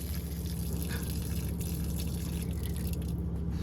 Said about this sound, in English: I think I hear the overflow. Yep, we're finally full.